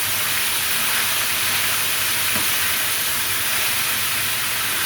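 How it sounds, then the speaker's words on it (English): Green beans stirred around in a hot pan while cooking with ginger, giving a loud, steady, even hiss of sizzling throughout with no breaks. "stir our green beans around some more"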